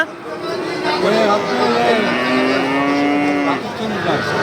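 A Pakistani Sindhi breed bull at a busy cattle market lets out a long, loud, drawn-out moo that rises and falls, with faint crowd babble in the background.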